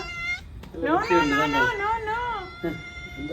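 A cat meows several times close by. One long, wavering cry sits between shorter calls, with a voice speaking briefly near the start.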